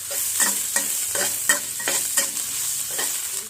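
Stir-frying in a pan with garlic and fingerroot, a loud continuous sizzle with rhythmic scraping strokes about every half second, close up and without talk.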